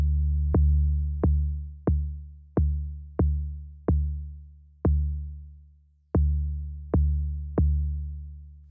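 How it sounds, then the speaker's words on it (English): An 808-style bass note from Ableton's Operator synth sounds alone, its tone rendered as a series of deep, sustained hits. Each hit rings out and decays over roughly half a second to a second, played in a steady repeating pattern. "We get more of that note ringing out so we can hear some more of the harmony"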